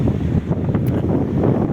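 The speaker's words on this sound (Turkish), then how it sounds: "rüzgarın sesiyle derenin sesi ayrı bir senfoni orkestrası gibi çalıyor arkadaşlar" Steady outdoor wind rushing broadband over a flowing stream in snowy countryside, a constant water wash beneath, buffeting the microphone; no voices.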